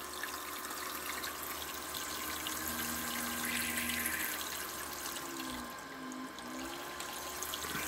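Water squirting from the impeller pump of an ice maker, a continuous spraying and trickling wash with a faint motor whine weaving underneath, fairly close and steady throughout.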